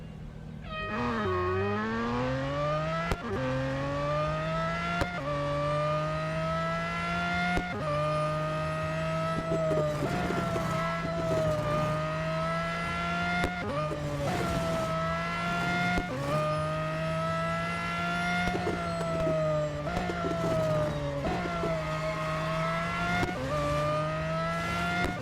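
Race car engines in the Real Racing 3 autocross video game, a sustained high revving drone that climbs and drops with each gear shift and corner, loud and continuous throughout with no speech.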